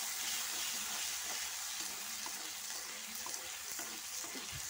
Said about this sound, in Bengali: তো মশলাটা আমি ভালো করে একটু কষিয়ে নেব